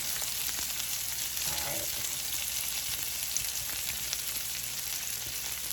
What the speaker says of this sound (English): Got a little sear on the outside action going.